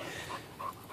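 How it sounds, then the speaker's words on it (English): A dog sniffs and pants close by during a day out with several dogs, short rhythmic breaths in a steady run with a couple of louder bursts. "He's sniffing for Molly."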